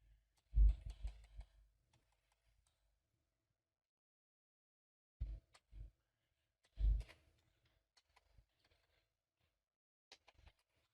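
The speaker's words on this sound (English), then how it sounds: "I don't know why I'm typing so much" Sparse keyboard typing, a few short bursts of clicky keystrokes separated by long quiet gaps, close and fairly soft.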